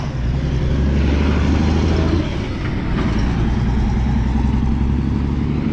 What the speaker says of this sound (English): That's how a truck's supposed to sound.